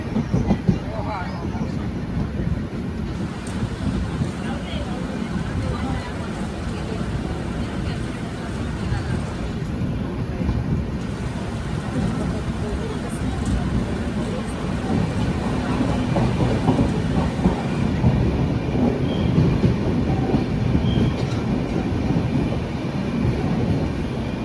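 Steady low rumble and rattling of a moving train interior on a rail trip through the Konkan region, a continuous wide-band drone that swells slightly toward the end, with a voice speaking faintly now and then.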